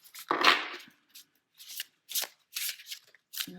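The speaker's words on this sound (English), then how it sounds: "I'm just going to shuffle one more time." A deck of oracle cards is shuffled by hand in several quick riffling bursts, close and fairly quiet, with short pauses between the papery flurries.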